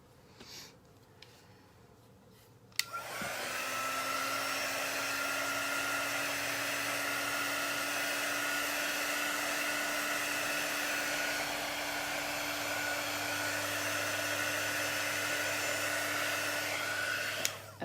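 A hair dryer switches on after a few quiet seconds and blows in a steady, loud whirring roar that carries on unbroken to the end, with no talk over it.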